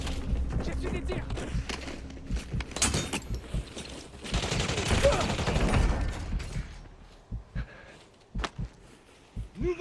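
Gunfire in the video game Warzone, with rapid bursts of shots and thumps that build in the middle and give way to scattered hits, mixed under voices talking.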